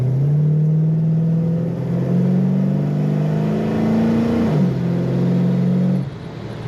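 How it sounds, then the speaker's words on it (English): A 1964 Chevrolet Chevelle with an automatic transmission accelerates, its engine note climbing steadily and then shifting down before rising again. The exhaust sounds loud and close with no talking, and the engine tone drops off at the end. "Very nice acceleration in this car."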